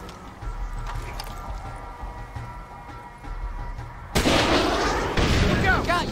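Artillery fire in the Full Spectrum Warrior game erupts partway through as a loud, broad booming blast with rolling rumble after a stretch of quieter gunfire and ambience.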